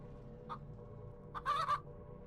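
Short clucks from a chicken in the video game Chicken Dungeon 3D, a brief single cluck followed by a louder double cluck over a low background hum.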